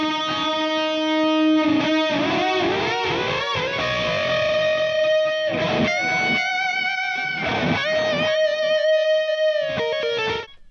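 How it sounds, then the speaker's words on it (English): A distorted PRS electric guitar through a Fender Hammertone Overdrive plays a solo of sustained, bending notes and quick runs, with delay repeats trailing behind the phrases, loud and alone. "if we take a listen to this PRS solo in isolation,"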